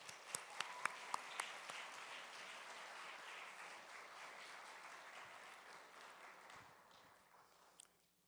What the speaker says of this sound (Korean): 박수로 하나님께 영광 돌리며 환영하겠습니다